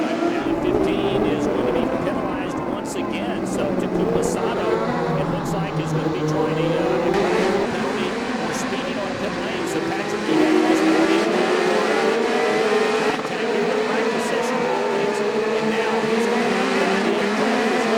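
IndyCar race cars scream past on the 2012 Sao Paulo street circuit, their high engine whine rising and falling through gear changes, with a race commentator talking over the cars throughout.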